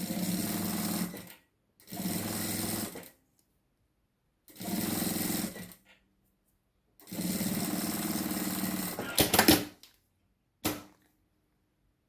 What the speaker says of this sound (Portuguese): levo aqui pra máquina, alinha direitinho e vai passando uma costura bem na beiradinha